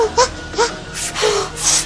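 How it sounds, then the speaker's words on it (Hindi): A child cries in a few wailing, sobbing bursts, short rising moans separated by gasping breaths, loud and close. "मेरा बच्चा रो रहा है"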